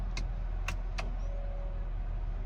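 Parking brake on a 2024 Hyundai Kona SEL being engaged, three short sharp clicks close by over a steady low idle hum, followed by a faint whir.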